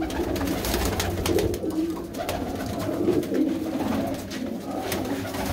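A Teddy Kingra racing pigeon, a two-race winner, coos in low repeated throaty phrases close by, loud and alone with faint background noise.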